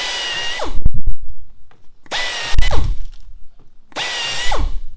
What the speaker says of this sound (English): we're just going to come in here and drill the center hole.